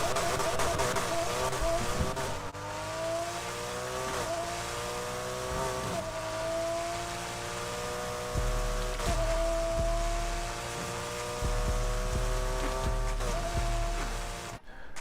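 A 900+ horsepower Nissan 240Z Fairlady race car in Need for Speed Heat screams at top speed, a sustained high engine whine with steady gear-like tones and brief bumps, loud and unbroken with no voices.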